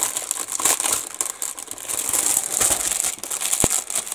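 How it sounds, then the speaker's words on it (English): Plastic bag crinkling and crumpling up close as HK Models 1/48 Avro Lancaster B Mk1 kit sprues are unpacked, a loud continuous rustle with sharper crackles throughout. "Sorry for all the bag rustling."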